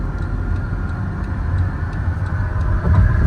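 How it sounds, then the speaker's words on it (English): A 2016 Dodge Caravan wheelchair minivan's engine hums steadily at 70 mph on the highway, with constant low road and drivetrain rumble and faint ticking, no voices. "I'm gonna zip it up to 70 miles an hour so you can hear it run."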